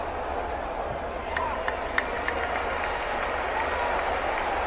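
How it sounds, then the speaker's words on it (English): Football fans in a stadium at a Ghana versus Ivory Coast match applaud in a steady, distant wash of clapping, with a few sharper claps and a commentator talking over it. "Every touch of his, and the fans will applaud"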